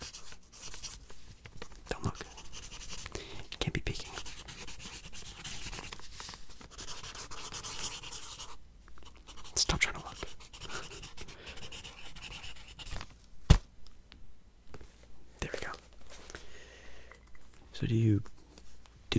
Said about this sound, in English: Let me write a little something for you as well,